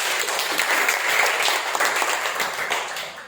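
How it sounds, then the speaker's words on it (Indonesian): A church congregation claps together, a dense, steady burst of many hands applauding at moderate volume, filling the room without pause. "mari kita berikan tepuk tangan buat Tuhan."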